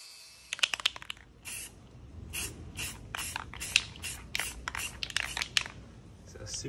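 Bursts of spray paint hiss out in short repeated passes as a light protective coat goes onto a fiberglass boat rudder, each spurt brief and close with quiet gaps between.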